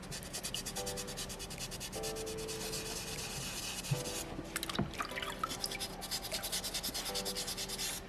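Sandpaper rubs steadily over a soapstone butterfly carving, a continuous close scratchy sanding with rhythmic back-and-forth strokes and a few brief knocks midway.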